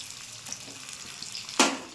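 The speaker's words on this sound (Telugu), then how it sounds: "పోపు వేస్తున్నా పప్పు. ఇలా ఉల్లిపాయలు వెల్లుల్లిపాయలు ఆయిల్లో బాగా ఫ్రై చేసి పప్పులు వేస్తే బాగుంటాయి." Onions and garlic tempering in hot oil for tomato dal sizzle steadily up close, with a light stirring scrape and a sudden louder burst of frying near the end.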